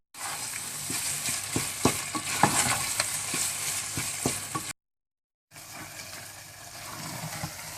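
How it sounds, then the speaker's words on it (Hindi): Minced meat frying with yogurt for keema aloo, a spoon stirring quickly against the pan in steady scraping strokes over a constant sizzle, with a short silent gap before the frying resumes. "अब इसमें मैं दही डालकर कीमे को भून लूंगी और तेजी से चम्मच चलाना है"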